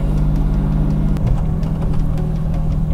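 Jaguar Mk2 with a freshly rebuilt engine driving slowly, a loud, steady low engine drone with a slight shift in pitch partway through, close and continuous with no talking.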